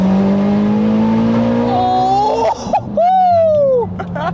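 A 700-horsepower turbocharged Mitsubishi Evo revs hard and climbs through a gear change into third, the engine note rising, dipping at the shift, then pulling up again loud and close from inside the car, with a voice briefly over it.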